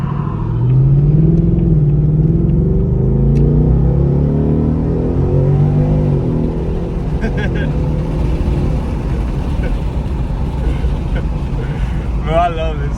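Ford S650 Mustang GT fitted with an MBRP race exhaust pulls hard, its loud, close V8 roar rising in pitch through shifts before settling into a steady cruising drone, with talk over the later part.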